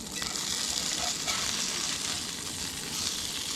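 A patty melt sizzles steadily in a pan over a camp stove, a loud, constant frying hiss with a few faint clinks and no talking.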